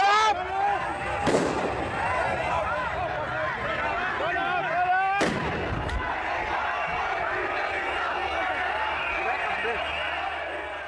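Firecrackers explode on a lawn near police during a tense street march, two sharp loud bangs a few seconds apart over a shouting, chanting crowd.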